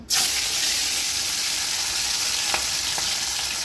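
Hilsa fish bubbling and sizzling hard in hot oil, a dense, close, continuous frying crackle with a few sharper spits and pops.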